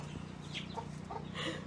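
A mother hen with her older chicks clucks and peeps softly in a backyard spring flock, with short scattered calls close by over a steady low hum.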